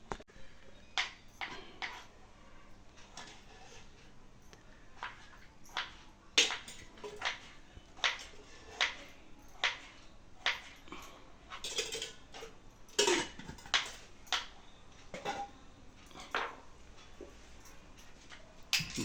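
Metal utensils clink and knock against a hot kadhai while oil goes in for a home-style ghevda bhurji, a run of sharp, close, irregular clatters with short pauses and no talking.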